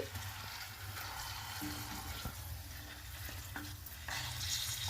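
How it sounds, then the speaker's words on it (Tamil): A pot of mango and okra kuzhambu curry bubbles and sizzles on the stove, a steady close simmering hiss with occasional stirring clinks and no talk. "மாங்காய் வெண்டைக்காய் குழம்பு கொதி வருது."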